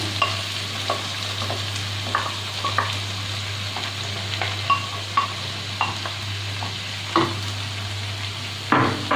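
Banana flower stirred into spiced oil in a pan for a Bengali mocha ghonto with shrimp and potato, a continuous frying sizzle under repeated clicks and scrapes of a spatula against the pot, with a low steady hum beneath.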